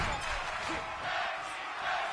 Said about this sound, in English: You can hear the crowd right now chanting tag team wrestling.